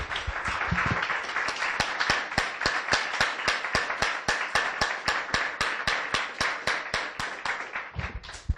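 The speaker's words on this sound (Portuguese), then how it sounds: "Vamos dar uma salva de palmas bonita para o nosso Deus" A church congregation claps in a steady, rhythmic unison beat, about three claps per second, sharp and even, sustained for several seconds.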